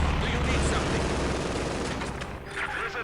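Machine gun fire and battle noise from the strategy video game Company of Heroes 2, a dense continuous clatter of gunfire with booms mixed into the game's sound, steady and loud throughout.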